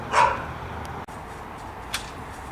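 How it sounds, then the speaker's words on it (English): Neighbor's dogs bark outdoors while a tent is being pitched, giving two short, faint barks from a distance, one at the start and one near the end, with quiet air between them. "those are my neighbor's dogs barking"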